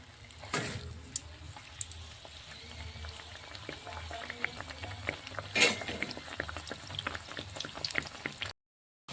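A Mughlai paratha made with egg fries in a pan with soft, scattered oil crackles and pops over a low background. It stays quiet and close, with a few sharper spits before a brief drop to silence at the end.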